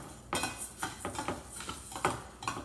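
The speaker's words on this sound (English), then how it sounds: "I'm going to fry my coriander and cumin seeds." Coriander seeds fry in a little oil in a pan, heard as a series of light clinks and scrapes from stirring against the metal, faint and close, with a soft low sizzle beneath.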